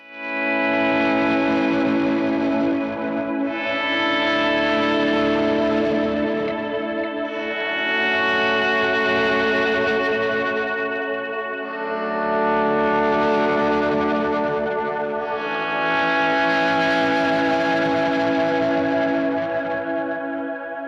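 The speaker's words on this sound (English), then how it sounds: "let's just give it a couple of swells with some big old reverb" Electric guitar chords swell slowly in and out in overlapping waves, thick with overdrive from a Prescription Electronics RX Overdriver pedal and washed in heavy, lingering reverb.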